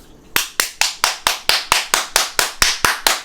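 A steady run of about thirteen sharp hand claps, evenly spaced and close, with nothing else in the background.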